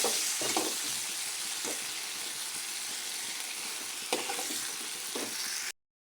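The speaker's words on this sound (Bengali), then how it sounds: "এখন দিয়ে দিলাম মাছ" Silver carp pieces frying with chili and salt in a pan, a steady, close sizzle and hiss with a few stirring scrapes and clicks, ending abruptly in silence.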